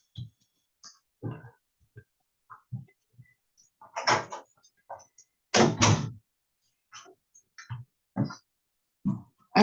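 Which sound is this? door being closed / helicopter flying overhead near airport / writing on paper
door being closed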